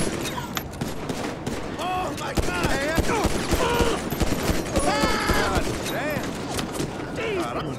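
Gunfire in Grand Theft Auto V fills a busy game scene, with repeated shots and bursts tightly packed across the whole stretch under a dense mix of game sounds and voices.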